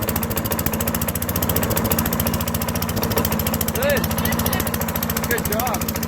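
A 15-year-old lawn mower engine idles low with a rapid steady chugging rumble, close and continuous, while people talk over it.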